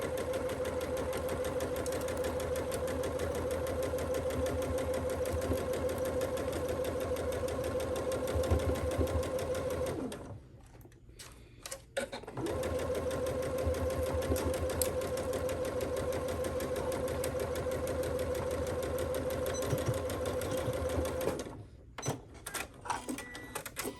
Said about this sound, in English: we're going to pin and sew right there. At a 1/2 inch seam allowance.